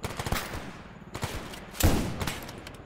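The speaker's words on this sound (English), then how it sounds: "We got to try out the sniper rifle, Seminole." Sniper rifle shots in the S.T.A.L.K.E.R. GAMMA video game, three loud sharp cracks spaced about a second apart, each followed by a brief echoing tail, with no talking.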